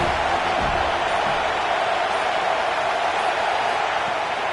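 Stadium crowd noise in the College Football 26 video game, a steady loud roar of fans rising behind the defense on third down, continuous and broadband throughout with no gaps.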